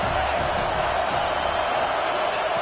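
Dense crowd roar fills an Ohio State football stadium, a constant loud wash of voices and cheering without a break, with commentary talk blended underneath.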